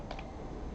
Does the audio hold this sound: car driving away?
no